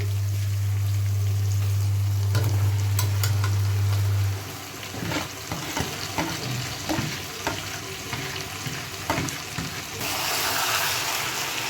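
Chicken pieces and potatoes hitting hot oil in a curry pot start a steady close sizzle with scattered stirring clatter, after a low hum at the start that fades out.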